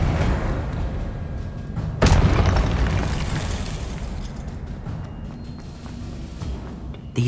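A Confringo blasting spell explodes in the Hogwarts Legacy video game with a sudden loud burst, and a rumbling roar follows that slowly fades over several seconds.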